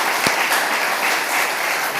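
A church congregation claps loudly for the choir at a year-end worship service: dense, steady applause fills the whole moment, with one sharp louder clap near the start.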